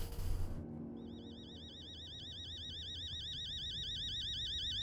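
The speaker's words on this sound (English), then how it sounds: "Got a fucking alarm here?" Warbling electronic alarm in the horror game Fears to Fathom starts after a brief low thump and keeps sounding steadily, a rapid oscillating tone over faint room hum.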